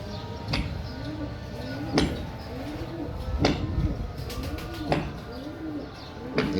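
Fakeer Gul pigeons cooing close by in a steady repeating pattern of soft, low, rounded calls, punctuated by sharp clacks and rustles roughly every one and a half seconds.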